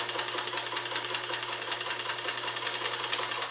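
The General, a Japanese-made sewing machine, stitches a straight line with a fast, steady mechanical chatter of rapid even needle strokes over a low motor hum, close and continuous without speech.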